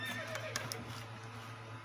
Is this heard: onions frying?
no